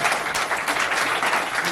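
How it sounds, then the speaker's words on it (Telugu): Steady applause from an audience at a family gathering keeps up at an even, fairly loud level throughout, with no speech over it. "సంతోషంగా ఉన్న వాళ్ళందరూ కూడా చప్పట్లు కొట్టి ఆనందంగా తెలియజేస్తారు"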